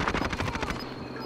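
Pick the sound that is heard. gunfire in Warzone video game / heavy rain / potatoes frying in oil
gunfire in Warzone video game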